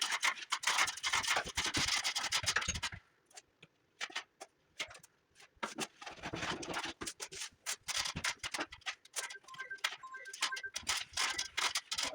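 Close scraping and rubbing of a drywall knife across wet joint compound, in irregular bursts of scratchy strokes with short pauses between passes.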